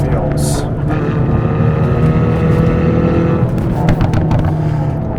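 Hyundai Veloster N driven hard through a corner, a loud sustained engine drone with rising and falling revs and wind rush, heard from inside the car with a voice talking over it.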